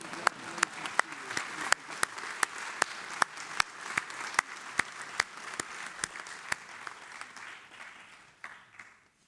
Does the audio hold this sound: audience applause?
yes